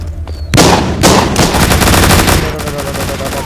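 Loud, rapid gunfire from a zombie video game, with dense overlapping bursts of shots repeating without pause across the whole stretch.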